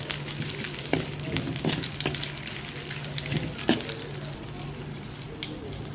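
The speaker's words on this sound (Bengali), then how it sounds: "তেল দিলাম আর দুইটা শুকনো মরিচ দিছি এগুলো ভাজবো" Onion, garlic and dried chillies fry in oil with a steady, soft sizzle, and a few light stirring clinks break in now and then. The sound is quiet and close, and no voices are heard.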